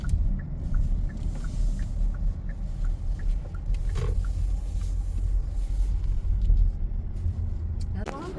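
A car drives into the parking area at Yorkdale Mall. A steady low road rumble and engine drone fill the cabin throughout, with faint muffled voices underneath.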